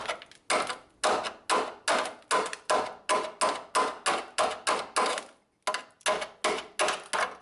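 A chisel knocks rust off a rotten car body on a 350Z drift build, giving a series of sharp, loud metallic strikes in a steady rhythm, close by, with one short pause partway through.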